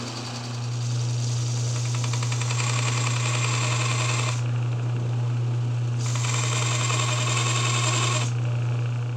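A grinder cutting metal teeth for a table saw dovetail jig: a steady low motor hum runs throughout, with two long bright grinding passes of several seconds each, broken by a short pause.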